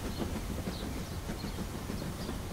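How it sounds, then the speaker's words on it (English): A cartoon toy train climbs a ramp with a continuous rumbling, rattling clatter of wheels on track, steady and fairly loud throughout with no talking. "Mr. Train is going up a ramp."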